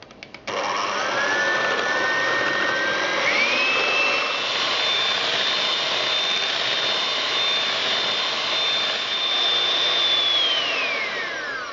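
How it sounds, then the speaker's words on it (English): An electric hand whisk whips eggs and sugar for a Swiss roll batter, its motor whining loud and close, rising in pitch through speed changes and then holding a steady high drone before winding down at the end. "I'm just using an electric hand whisk. We're going to whisk them together"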